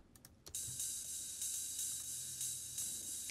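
Ride cymbal sample in a progressive house track, a bright shimmering wash that rings steadily with a few soft repeated strikes, close and alone after a couple of quick ticks at the start.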